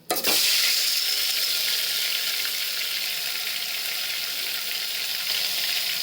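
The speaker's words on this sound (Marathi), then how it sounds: "आता याच्यामध्ये हा वाटलेला मसाला टाकते" Ground masala dropped into hot oil over a curry-leaf tempering for Maharashtrian katachi amti: a sudden loud burst of sizzling that settles into a steady, bright, close hiss.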